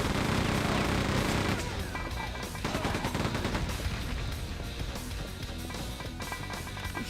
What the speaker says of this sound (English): Dude, I really like the chain gun.